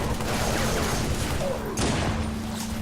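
Halo 3 gunfire rattles as a steady, dense fusillade under loud battle din, with a short swell partway through and occasional voices in the mix.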